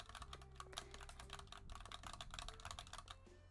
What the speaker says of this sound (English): I sound like a sassy secretary already with my keyboard just because of how clicky clacky it is.